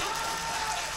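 Brief burst of audience clapping at a mushaira poetry gathering, a dense, even wash of many hands applauding for about a second.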